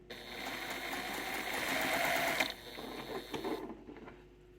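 A sewing machine runs steadily, stitching quilt half-square triangles at a slow pace, with a fairly quiet continuous whirring hum that pauses briefly and then stops.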